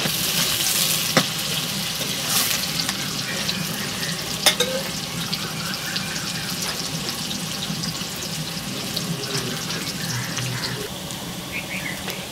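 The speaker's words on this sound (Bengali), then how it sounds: "এরপর আমি পেঁয়াজটা ভেজে বেরেস্তাটা তৈরি করে নেব।" Sliced onions fry in hot oil in a pan to make crisp birista for chicken biryani, a steady close sizzle with occasional sharp clicks and scrapes of stirring.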